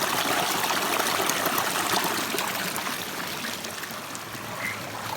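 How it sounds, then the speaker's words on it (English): A small seasonal stream along a hiking trail flows steadily, a continuous close rushing and trickling of water that fades slightly toward the end, with no voices. "This is a small seasonal stream, which is flowing pretty good right now."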